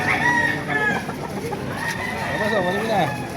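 A kanawayan rooster clucks and gives short crowing calls close by at a crowded poultry market, with people talking over it throughout.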